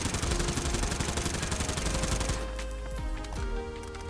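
An AK-74U fires a full 30-round magazine in Warzone: a fast, loud, continuous automatic burst for about two seconds, then the fire stops and a fading echo tail follows with a few mechanical clicks.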